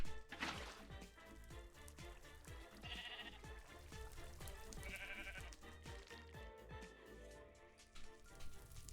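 Sheep in Minecraft bleat repeatedly through a dense, busy game soundscape, each call short and moderately loud amid steady background sounds, with no one talking.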